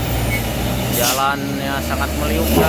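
A yellow Mitsubishi truck passes a dump truck on a winding village road, its engine rumble and air-brake hiss heard close by while someone talks over it.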